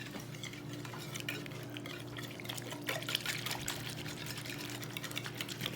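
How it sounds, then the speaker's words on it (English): Heavy whipping cream and water are whisked together in a bowl for a keto cheeseburger pie, making a steady, close, liquid swishing and stirring sound with no talk. "Whisk that up really good."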